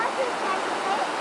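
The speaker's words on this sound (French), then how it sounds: "Ça, c'est les chutes, les amis." Waterfall at a regional river park, a steady broadband rush of falling water filling the short stretch evenly, close and continuous with no voices over it.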